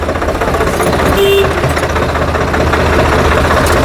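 A Swaraj 744 FE 4WD tractor engine runs close up with a hard, rapid diesel knock, a loud, even chugging that continues without a break.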